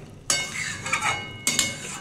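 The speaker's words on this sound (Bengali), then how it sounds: "আলু এঁচোড় সব দিয়ে বন্ধুরা আমি আর একটু কষিয়ে নেব।" Fried potatoes and green jackfruit being stirred in a pan, with a spatula scraping and clinking against the metal in two distinct bursts over a soft sizzle.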